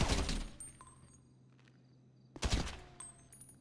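Gunshots fired at a window of Franklin's house in GTA 5, heard as two short bursts of shots, one at the start and one near the end, separated by a quiet stretch.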